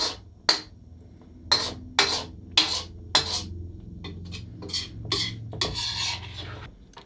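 A utensil scrapes through ginger beef stir fry sauce in a pan, giving a run of sharp rasping strokes, some with metallic clinks, then quicker softer stirring, all close and clear.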